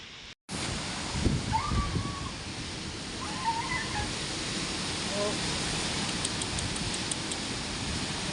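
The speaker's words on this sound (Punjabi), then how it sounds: "ਬਹੁਤ ਜ਼ਿਆਦਾ ਮੀਂਹ ਰੱਬਾ ਬਚਾ ਕਰ ਫਸਲਾਂ ਦਾ" Heavy rain pours down during a village storm in Punjab, a dense, steady roar of water that begins after a brief cut and carries on to the end, with faint voices underneath.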